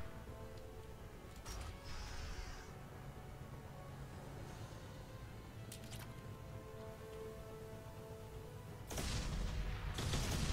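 Explosions in the Mass Effect video game come as a few sharp bursts and rumbles at intervals, with a heavier, louder blast near the end over a low background.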